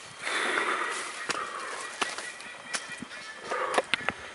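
Birds call in a tropical island jungle on a trek, with scattered sharp honking and squawking calls at varying distances over a faint background, irregular bursts rather than steady song.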